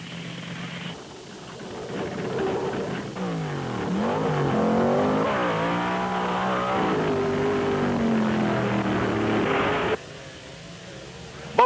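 Wheelstander drag racing cars roar down a 1971 dragway, a loud, rising engine howl that swells and holds for several seconds, sweeping in pitch as the cars run the strip, then cuts off abruptly.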